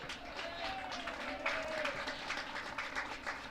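Cricket crowd at a county match between Nottinghamshire and Sussex gives a sustained, fairly distant rumble of cheering and clapping as bowler James Pattinson runs in, with a commentator's voice faintly mixed in.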